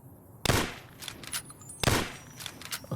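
Gunfire in the video game Fallout: New Vegas, two sharp loud shots about a second and a half apart, each followed by quieter crackling echoes and game effects.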